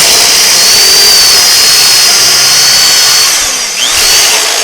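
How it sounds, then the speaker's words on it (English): A power drill whines loudly and steadily at close range, its pitch dipping briefly near the end before it spins back up. "You never want to leave that drill running."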